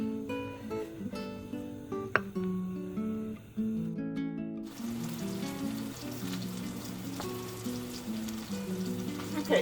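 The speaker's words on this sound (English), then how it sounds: "we put our olive oil and onions in the pan with a little bit of butter, and we are sauteing them up" Chopped onions sauté in olive oil and butter in a pan, a continuous soft sizzle beneath music with occasional utensil clinks.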